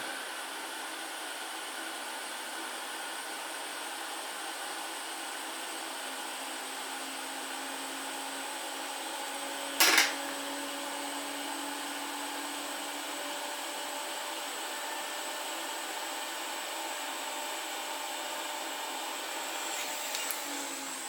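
An air blower sprays steadily over an Antminer S17+ hashboard under repair, a continuous hissing rush held throughout, close and even, with a brief click near the middle.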